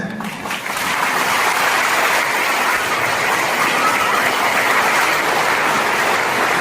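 Congregation clapping hands at a Christian worship service, a dense, steady wash of many hands clapping that stays loud and even throughout, with no distinct individual beats.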